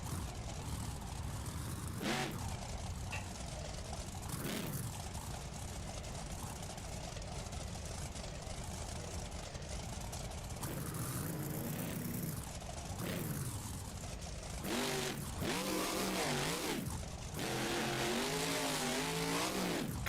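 Beam Monsters monster truck in a BeamNG Monster Jam stadium event at Glendale, its engine droning and revving loudly throughout with sharp surges and wavering pitch climbs toward the end, mixed with crowd and arena noise.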